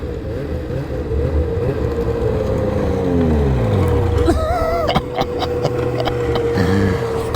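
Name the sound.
snowmobile engine running, 850 sled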